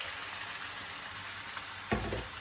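Vegetables and seafood sizzle steadily in a wok, with a brief louder hiss and splash near the end as shrimp sauce is poured in. Nobody talks.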